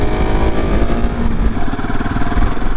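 KTM 690 Enduro R motorcycle being ridden, its single-cylinder engine droning steadily and loud throughout with continuous road and wind noise.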